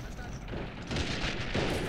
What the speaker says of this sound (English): I'm hearing bombardment.